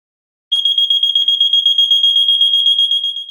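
A gas detector alarm sounds when triggered, a loud, piercing, rapidly pulsing high-pitched electronic beep that starts abruptly after a short silence and continues without a break.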